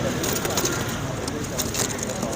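Pigeons cooing and fluttering close by in Lahore's Tollinton Market, amid a busy, noisy background with soft murmuring voices mixed in.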